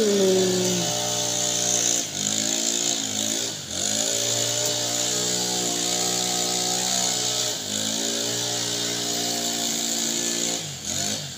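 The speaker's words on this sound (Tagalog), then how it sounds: "Yan ang sounds of lawn mower" A motor drones steadily throughout, its pitch dipping and rising several times as the load changes, loud and close.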